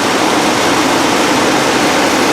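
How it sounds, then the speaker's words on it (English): A loud, steady engine drone at idle from a 1991 Mercedes-Benz 420 SEL, a constant rumbling hum that holds without a clear change over a couple of seconds as the idle speed creeps upward. "now you can hear the engine idle speed start to creep upward."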